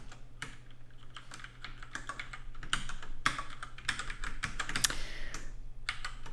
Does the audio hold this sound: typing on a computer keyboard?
yes